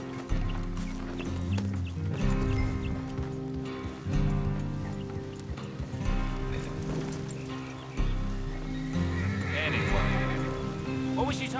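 A horse whinnies over rhythmic hoofbeats and a steady musical backdrop in the video game Red Dead Redemption II, with a second neigh later on.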